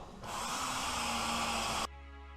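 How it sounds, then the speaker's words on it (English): A steady, high-pitched power drill with a metal bit whirs continuously through a metal stud for under two seconds, then cuts off abruptly, leaving a low hum. "So it's as simple as getting your metal drill bit and drilling."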